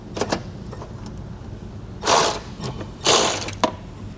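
Tool loosening a bolt on a Roadmaster crossbar-style base plate, with a few quick mechanical clicks followed by two louder bursts of ratcheting, close and alone in a quiet space.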